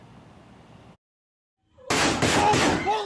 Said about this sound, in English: This cell phone video captured the gunfire and the screams of the high school students trapped inside their classrooms.